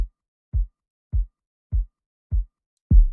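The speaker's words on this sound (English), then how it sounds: "So one of the kicks sounds like this." Five deep, punchy kick drum hits spaced evenly about half a second apart, each a short low thump, the last one slightly louder and longer.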